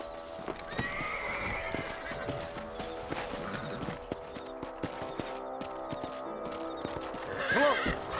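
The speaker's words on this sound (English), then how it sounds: "Let's get back on the horses and see what else is going on." Horses in the Red Dead Redemption video game whinny and neigh loudly near the end, after a stretch of clip-clopping hooves over an outdoor ambience with a steady musical hum underneath.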